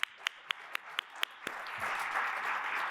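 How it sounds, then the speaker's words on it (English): Applause at a higher-education event: a few sharp, evenly spaced claps first, then a broad wash of audience clapping builds and holds. "Give them a big round of applause."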